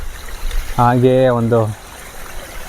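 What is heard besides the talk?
water flowing down a waterfall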